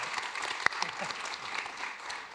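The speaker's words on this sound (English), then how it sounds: "So that was a collective clap" Audience at a town hall event claps steadily, a dense patter of many hands close by, with one sharper single clap standing out early.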